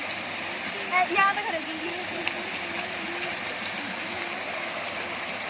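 A waterfall near a tea garden rushes in a steady, soft broadband wash in the background while someone talks over it.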